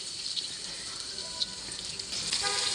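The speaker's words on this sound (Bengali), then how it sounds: "ভেজে নিচ্ছি" Hilsa fish frying in oil in a pan on a home stove, giving a faint, steady sizzle and hiss throughout with a few slightly louder pops and no voices.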